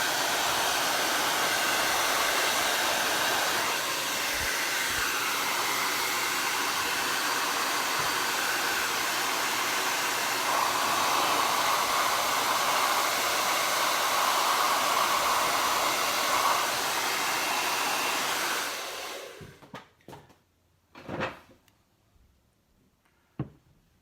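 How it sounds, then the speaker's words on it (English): A blow dryer runs loud and steady, blowing hot air onto a slip cast ceramic vessel, a constant roaring hiss for nearly twenty seconds before switching off, followed by a few faint knocks and handling sounds. "I'm back and with a blow dryer"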